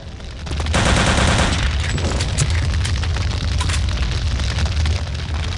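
Loud rapid machine-gun bursts mixed with booming explosions in Return to Castle Wolfenstein, a dense continuous barrage of battle noise with no talking.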